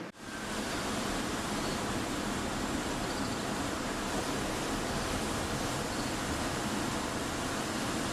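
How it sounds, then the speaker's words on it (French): Ocean waves break at a surf spot just in front of a camp on building land. They form a constant, even roar that stays steady at a distance throughout, with no voices. "c'est le bruit des vagues, parce qu'on se situe en réalité juste devant un super spot de surf"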